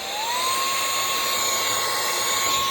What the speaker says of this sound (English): because it blows air out and it becomes like a blower